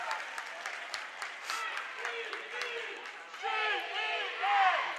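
St. John fans at a district volleyball championship cheer and yell in a loud, rising roar, with scattered whoops and shouts swelling toward the end over a commentator's voice.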